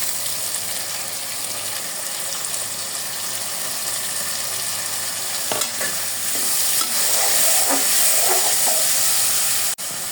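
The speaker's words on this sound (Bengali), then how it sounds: "দিয়ে যে মাংসের শুটকি এটার সাথে ভেজে নেব।" Dried meat shutki fries in hot oil with cloves and bay leaves, a steady dense sizzle with stirring scrapes and a sharp clank near the end, close and loud.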